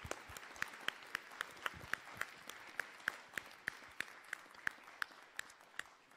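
Sparse applause from a small live-stream audience, with a few distinct claps repeating at a steady, slightly uneven pace against a quiet, distant background.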